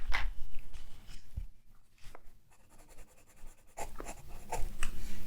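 A 6H sketch pencil scratching across paper in short, close strokes with quiet pauses between bursts, soft and dry, no talking.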